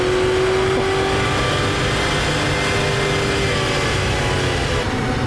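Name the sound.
V8 police car engine revving and accelerating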